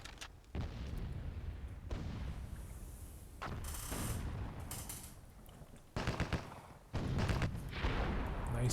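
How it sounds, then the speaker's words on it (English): A cannon fires in the Myth II Soulblighter game during a World War II themed match, heavy booming blasts and rumbling bursts of battle noise following one another, with short quieter gaps between them. "Nice cannon shot there to kill, it was a rocket guy."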